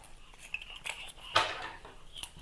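Scissors trimming the edge off a piece of paper make a few faint close snips and crisp paper rustles, with one sharper cut in the middle, in a quiet room without talk.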